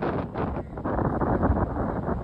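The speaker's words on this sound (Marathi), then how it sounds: "वारा खूप आहे, माहिती नाही तुमच्यापर्यंत आवाज पोहोचतोय की नाही." Strong wind buffets the microphone atop a sea fort on the Murud Janjira coast, a continuous loud roaring rush with gusting swells and no voices.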